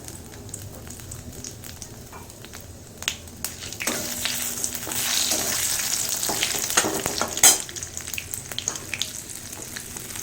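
Bay leaves and panch phoron spices frying in hot oil, crackling and sizzling that swells partway through with sharp pops and stirring scrapes, no one talking.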